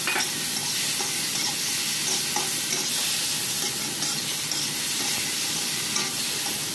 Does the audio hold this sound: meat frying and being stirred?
yes